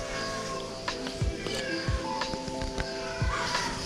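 Cats meow faintly amid a busy outdoor background at a temple, with scattered soft knocks and a low steady hum throughout.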